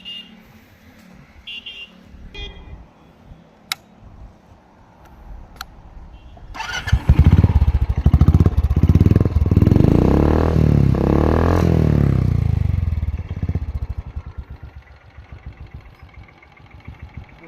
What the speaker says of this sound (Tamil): உங்களுக்கு வண்டியை ஸ்டார்ட் பண்ணி காமிக்கிறேன் பாருங்கள்.